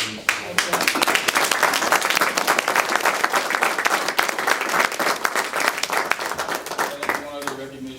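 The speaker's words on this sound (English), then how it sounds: "I just want to give Ms. Reese a huge round of applause for putting this together." Enthusiastic applause from a crowd at a school event, dense clapping sustained loud for several seconds before tapering off.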